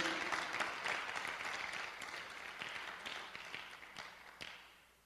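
A church congregation applauds, with a dense burst of claps fading gradually over several seconds, fairly faint and distant.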